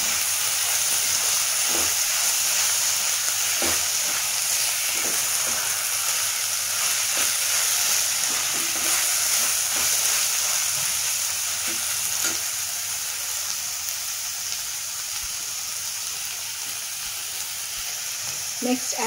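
Chopped tomato frying in masala for a Kerala-style crab curry, a continuous close sizzle and hiss with occasional stirring clicks and scrapes and no speech.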